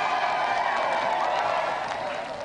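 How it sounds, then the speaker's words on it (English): A television game-show studio audience gives a round of applause, a dense, steady wash of clapping with faint cheering that holds loud for a couple of seconds and then eases slightly. "let's give another round of applause for our challenger, Mr. Martin Mathers"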